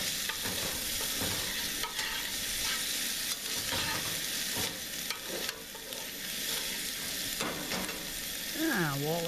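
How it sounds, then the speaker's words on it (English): Sausage frying in a pan over an open fire outdoors, a continuous sizzle with stirring scrapes and clatters; a faint voice-like whistle rises near the end. "we're going to put this on fire here and start this sausage cooking"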